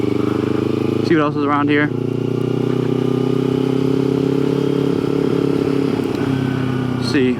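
A motorcycle rumbles steadily as it rides around on a motovlog outing, a constant loud engine drone throughout, with someone speaking briefly over it.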